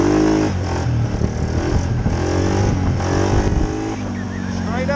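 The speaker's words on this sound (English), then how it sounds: "This thing will wheelie at a quarter throttle." A Suzuki KingQuad single-cylinder ATV engine revs loud and steady through a throttle-held wheelie, with a rising whine near the end, while someone talks over it.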